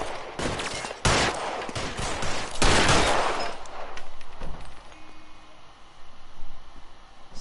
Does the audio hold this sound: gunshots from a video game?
yes